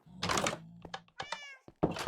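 A pet cat in the Minecraft video game meows in short, bright calls, interleaved with soft thunks and clicks, sounding close and clear.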